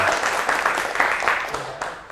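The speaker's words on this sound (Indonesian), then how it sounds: "tepuk tangan buat kita semua" Classroom applause for a group of students, a brisk busy patter of many hands clapping at once, fairly close and continuous, with a voice briefly heard beneath it.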